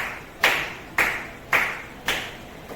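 Four loud, evenly spaced hand claps from a class of students, about half a second apart, each a sharp burst with a short decaying tail and no voices over them.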